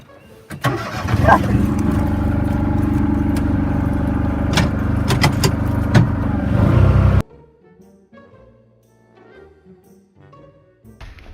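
Garden vehicle starting up with a jangle of keys, its engine running loud and steady up close for several seconds before cutting off abruptly, leaving quiet ambience.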